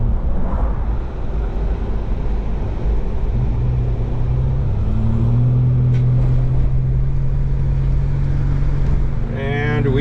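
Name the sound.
1996 Mitsubishi Montero driving to the gas station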